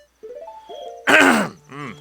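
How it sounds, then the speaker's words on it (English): A man clears his throat once, a short, loud, rough rasp close to the microphone, set between soft tonal sound effects from The Legend of Zelda: Majora's Mask. "Clear my throat for the Dangereux voice"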